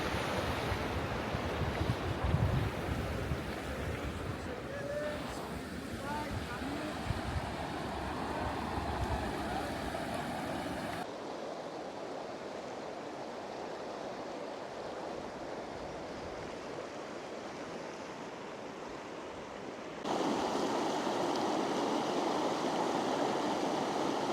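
Strong wind buffets the microphone outdoors at Laguna 69 in Peru with roaring gusts and rushing noise, dropping briefly before surging again; surf-like roar underneath, no talking.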